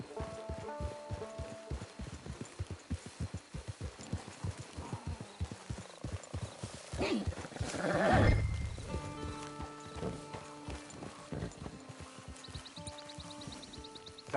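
Hooves clip-clop at a steady walking pace, close by, with a horse snorting and whinnying partway through.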